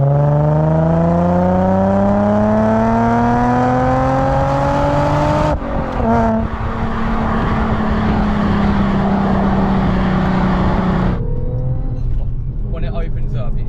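An Audi S4 fitted with an aftermarket exhaust revs up in two rising sweeps, the note climbing and dropping back to idle between them, loud and close with no talking over it.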